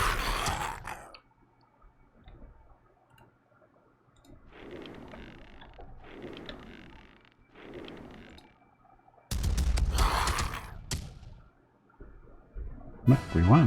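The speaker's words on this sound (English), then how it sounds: "Oh, we're definitely making a loud din with our cannons" Cannons fire during a battle in the strategy video game Master of Magic: several booming bursts come in clusters, with quieter gaps between them and a final sharp volley near the end.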